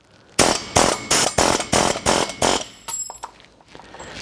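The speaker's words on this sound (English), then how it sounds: "I'm going to use an air hammer." An air hammer drives a roll pin out of a John Deere 40/90 chain roll, loud close rapid bursts of hammering in about seven evenly spaced blasts, then a few lighter taps and clinks.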